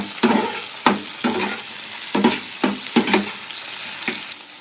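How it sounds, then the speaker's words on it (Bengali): A spatula stirs chicken pasta with dried tomato in a hot pan, making a run of rhythmic scraping strokes over a light sizzle, close and fairly loud, with no speech. "আবার একটু নাড়াচাড়া করে দিলাম"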